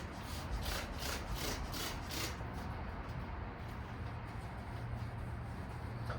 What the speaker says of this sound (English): I will be using 2000 grit sandpaper